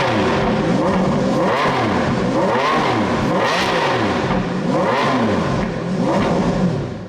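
A Maserati MC12 supercar's engine revs loud and close, climbing and falling in repeated sweeping surges that sweep up and down again and again with a rich roar and no talking.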